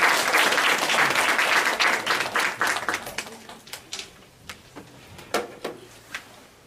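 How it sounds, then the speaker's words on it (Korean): A church congregation claps to welcome the pastor to the pulpit, dense applause at first that thins out over a few seconds into scattered last claps. "함께같이 박수로 목사님을 모시도록 하겠습니다."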